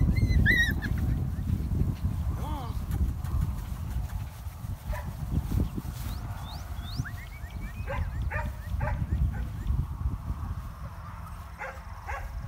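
Dogs bark outdoors in short, scattered bursts of yips and honking barks at moderate distance, over a steady low rumble of background noise, with some whimpering between barks.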